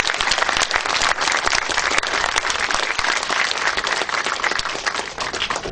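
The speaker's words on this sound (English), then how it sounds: "I want to make sure while the room is full that we thank the speakers with the applause." Conference audience in a full room applauds the speakers at the end of a technical session with dense, steady clapping that fills the whole stretch with no voices over it.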